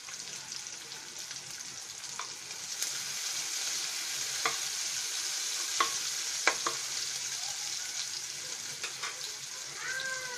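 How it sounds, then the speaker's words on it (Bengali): Chopped onion and garlic frying in oil, a continuous close sizzle with occasional light scrapes and taps from stirring, no voices. "এখন আমরা এই তেলটার ভিতরে এই পেঁয়াজ রসুনটা খুব সুন্দর মতো ভেজে নিব"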